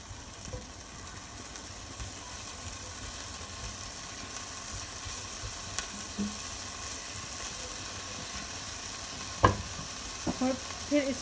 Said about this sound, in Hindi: 1 मिनट के लिए इसको फ्राई करेंगे।